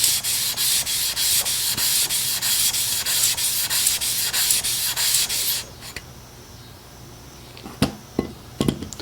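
A blade is honed on a 1200 grit sharpening stone with steady, rhythmic back-and-forth rasping strokes, close and loud for about six seconds, followed by a few sharp knocks and clicks.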